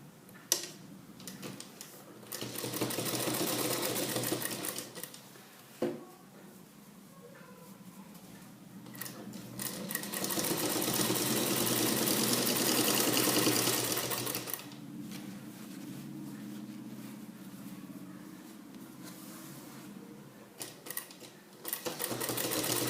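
A sewing machine stitches the elastic waistband of a salwar pant, a fast, close mechanical chatter that runs in long stretches with brief pauses between runs, moderately quiet and with no talk.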